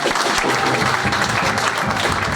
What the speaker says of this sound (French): Si on peut acclamer très fort le Seigneur